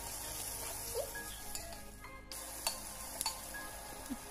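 Onion, coriander and mint sautéing in a pan for coconut milk rice, a faint, soft sizzle with a few light taps and clicks of stirring.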